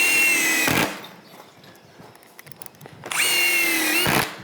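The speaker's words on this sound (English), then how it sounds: "So now we just screw everything back together." Power drill driving GRK structural screws into steel framing, two loud close bursts of high whining motor with a pause between them, no talk.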